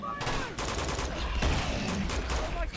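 Rapid bursts of enemy gunfire in Uncharted 2, loud and dense, with overlapping volleys and automatic fire filling the scene throughout.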